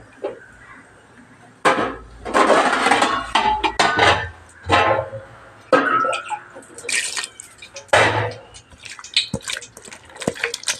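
Curd, coconut milk, onion and green chili get stirred together in a bowl, wet squelching and sloshing strokes coming in several close, uneven bursts with brief pauses between them, and a voice speaks between the strokes.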